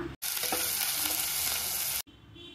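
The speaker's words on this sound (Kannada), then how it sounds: "ಈರುಳ್ಳಿನ ಸೇರಿಸ್ಕೊಂಡು ಕೆಂಪು ಬಣ್ಣ ಬರೋವರೆಗೂ ಇದನ್ನು ಫ್ರೈ ಮಾಡ್ಕೊಳ್ಳಿ" Onions and green chilies fry in a pan for palak dal, a loud, close, continuous crackling sizzle that cuts in abruptly and stops abruptly, with a quieter background before and after.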